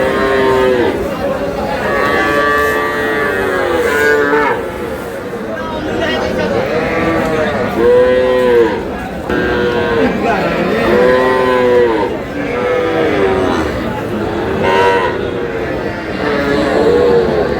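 Young bull calves at a cattle market in Natore moo again and again, loud and close, with calls overlapping and following one another almost without a break, over faint crowd murmur.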